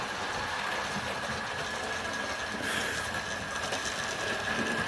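A Hornby LMS Compound model locomotive with Fowler tender runs around a layout pulling its train, a steady close whirring rumble with faint rail clatter and a thin high whine, continuous and without voices.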